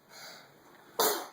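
A single short, close burst from a person as a sneeze breaks out after a faint intake of breath. Nothing else is heard.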